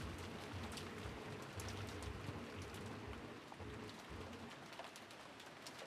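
Game rain ambience from the Umineko visual novel, with steady soft rainfall and patter on surfaces, low and continuous, with faint bird-like coos over it.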